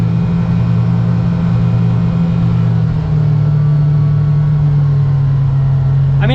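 A 2025 Kawasaki Ridge Crew utility vehicle engine drones steadily while driving, loud and close, with a low, constant rumble.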